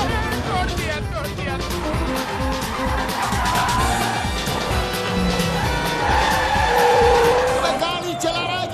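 A car driven hard at speed with tires skidding and squealing, engine roaring throughout, loud and close, with voices talking over it.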